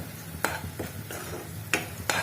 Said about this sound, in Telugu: ఆయిల్ పైకి తేలేంత వరకు వేగాలి ఈ మసాలా